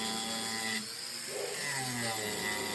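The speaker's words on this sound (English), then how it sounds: "You can see the 2 inch cutter where it goes around the wood" A 2-inch hole cutter bores through a wooden railing with a steady, close mechanical whine and grinding rasp that dips briefly and then resumes, with no voices.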